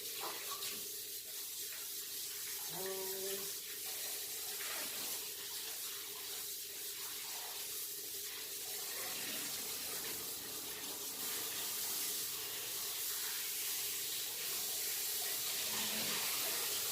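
Sardines being washed under a running kitchen tap, giving a constant close rush of water into the sink with faint handling sounds and a few brief tonal squeaks.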